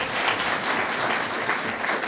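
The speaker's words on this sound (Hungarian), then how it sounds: "Ide is kérek egy tapsot." Audience at a Szilas Advent folk dance event applauding the dance ensemble's parents' group, a steady, full wash of clapping from many hands, close and loud without talk.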